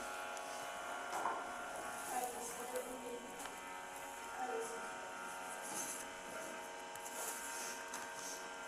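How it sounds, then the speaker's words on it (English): A loud office printer runs steadily with a mechanical hum and buzz, carrying faint bursts of background voices. "that loud ass printer again"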